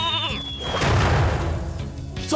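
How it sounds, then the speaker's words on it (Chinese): A cartoon lamb bleats once, a short wavering cry heard over a background music score. "对不起，加比还有小羊，我马上喂你们。"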